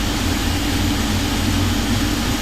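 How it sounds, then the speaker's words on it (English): Jet engines of a PMDG Boeing 777 running in the FSX flight simulator make a steady, loud, continuous roar with a low rumbling drone, unchanging throughout. "Now the engines are started."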